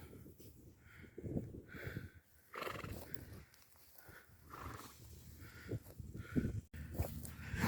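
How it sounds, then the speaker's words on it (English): Horses on a farm near Yzerfontein, with repeated neighs and whinnies rising over a busy outdoor background, some fairly close and loud, others further off, spread across the whole stretch. "Namibia has mostly lots of wild horses"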